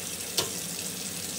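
Hot tap water runs steadily into a sink while a razor blade is rinsed, a close hissing stream with one brief clink near the start.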